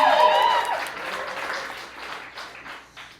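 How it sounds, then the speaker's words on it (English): Comedy club crowd clapping for comedian Timmi Lasley, loud at first with a brief cheer, then thinning and fading as the applause tapers off. "Clap for me again, please."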